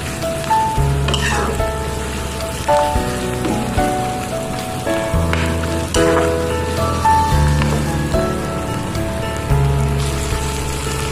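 Fish fries in a pan with a dense, continuous sizzle and crackle, heard close and fairly loud, with a low recurring hum and occasional clinks from the cookware over the hiss.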